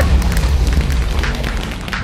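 A deep, rumbling explosion from the Minecraft video game, a heavy low boom that rolls on for a couple of seconds with crackling debris on top.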